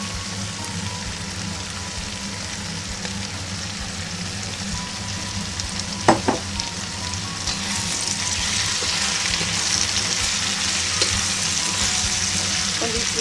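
Champignon mushrooms frying in a wok with vegetables, a steady close sizzle with a couple of quick clacks of stirring midway, and the hiss rising slightly toward the end.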